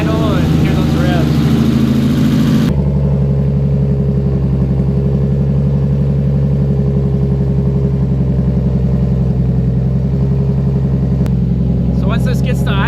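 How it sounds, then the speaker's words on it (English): A Nissan Skyline RB25DET fitted with Kelford .272 cams on its first start, settling into a loud, steady, lumpy idle close by, with a voice talking over it. "For it to get to idle and hear those revs."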